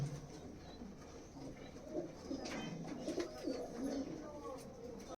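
A pair of Kamagar pigeons coo softly and repeatedly at close range, their low throaty calls faint against background noise.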